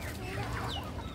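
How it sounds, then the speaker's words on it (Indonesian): Chickens cluck and call continuously at close range as backyard chickens and Muscovy ducks are let loose to roam, a steady busy flock sound with no talking. "video kali ini memperlihatkan ayam dan entok nih lagi saya lepas"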